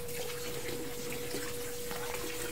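Water flowing steadily from a 12-volt solar-powered submersible pump feeding a drip irrigation line, a constant rushing splash with a faint tonal hum underneath.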